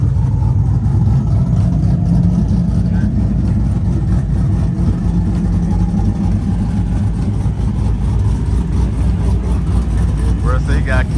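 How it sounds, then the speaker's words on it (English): A big truck's engine runs steadily at a low, heavy idle with some revving, loud and continuous throughout, with voices talking over it outdoors. "I don't even see why you cranking up the truck anyway."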